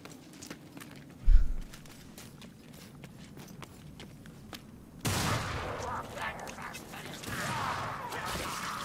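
Handgun shots in Warhammer: Vermintide, played on Hard difficulty: scattered sharp cracks over quiet game ambience, one heavy thump early on, then a denser, louder stretch of combat noise.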